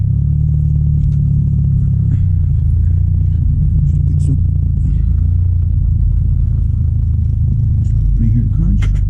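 Small car driving, with a loud, continuous low engine rumble and road noise close up, plus scattered light clatter and faint voices over it.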